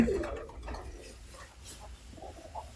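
Pigeons waiting to be fed coo softly nearby, low murmuring calls that come faint and intermittent over light background noise.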